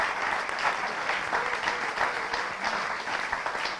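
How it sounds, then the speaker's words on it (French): A church congregation applauds loudly during a sermon on grace, a dense and steady clapping that fills the room for several seconds. "nous acclamons très fort"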